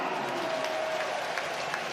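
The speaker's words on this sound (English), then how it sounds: "And Mata getting great applause as well." Football stadium crowd at Manchester United versus Galatasaray applauding Mata: a continuous, distant wash of clapping and crowd noise at a steady level, without standout shouts.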